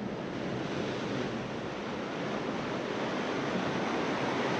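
Ocean surf washes in a steady, dense roar along a Kauai shoreline in Hawaii, loud and continuous with no voices over it.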